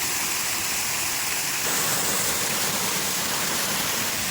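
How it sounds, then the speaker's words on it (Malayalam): A rain-swollen stream pours down out of the Sabarimala forest in Kerala during heavy monsoon rain, producing a steady, dense rushing roar close by that holds even and unbroken throughout, with no voices. "കാട്ടിൽ നിന്ന് വരുന്ന വെള്ളം കേട്ടോ അപ്പോൾ നല്ല മഴയൊക്കെ ഉള്ള സമയമായതുകൊണ്ട് ഈ വെള്ളം ഇങ്ങനെ ഒഴുകുന്നതാണ്"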